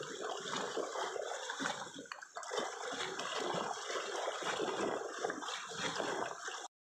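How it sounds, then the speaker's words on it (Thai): Waves lapping and wind blowing at a mountain lake in Canada, a steady broadband wash of water and gusts that runs continuously at moderate level, with no talking. "ให้ฟังเสียงคลื่นกับเสียงลมนะทุกคน"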